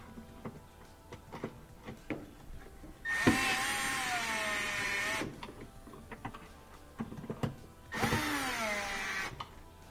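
Power drill driving screws into a Whirlpool washing machine: two loud whining bursts of a few seconds each rise and fall in pitch, with small clicks and handling knocks between them.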